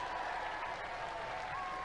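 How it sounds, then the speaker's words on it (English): Crowd applause for a robot combat competitor at an arena event, a continuous even wash of clapping with a steady tone running underneath. "Give him a round of applause, ladies and gentlemen."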